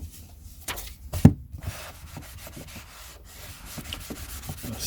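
A cloth wipes dust and dirt off the dust wrapper of a vintage Pelican paperback, making a soft, close, continuous rubbing with one louder bump near the start.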